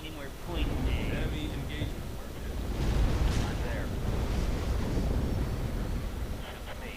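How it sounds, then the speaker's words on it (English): Rumbling explosions in a video game as bases are sold off, a steady mid-distance barrage with deep booms swelling midway, heard beneath someone talking over the action. "Whenever you hear a lot of explosions in the background, that usually means that they're selling off their bases."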